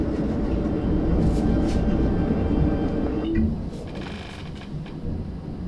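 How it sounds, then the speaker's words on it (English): Thunder from a storm rolls outside a house as a loud, sustained low rumble that fades out after a few seconds, leaving faint background noise. "I guess there's a thunderstorm going on."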